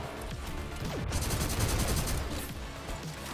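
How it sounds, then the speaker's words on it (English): Rapid submachine-gun fire rattles continuously in the first-person shooter GTTOD: Get To The Orange Door, a loud, dense stream of shots with a brief break near the middle, and no voices over it. "I'm just unloading. It's weird how the SMGs become so powerful."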